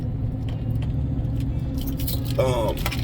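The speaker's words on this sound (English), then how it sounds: "My keys clicking." House keys on a ring click and jangle close by inside a car, faint metallic rattles over a steady low engine rumble, with a voice briefly heard near the end.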